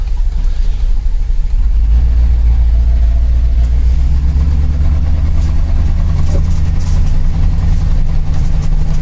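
An old square body pickup truck on its first drive, a loud, constant low engine rumble and road drone from inside the cab with no one speaking.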